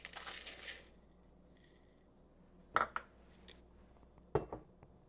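Dried minced onions poured and scooped into a measuring cup, a long soft dry rustle at first, then a few sharp clinks and taps of the cup and utensils, close and fairly quiet.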